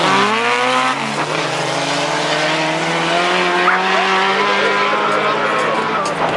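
A drag racing car launches hard from the start line at a Lithuanian drag championship round in Kazlu Ruda. Its loud engine climbs in pitch through the gears, with tire noise under it, and a crowd and announcer murmur in the background.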